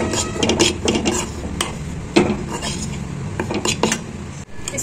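Wheat flour roasting in ghee for halwa is stirred in a pan close up, with a metal spoon repeatedly scraping and clinking against the pan in an uneven rhythm.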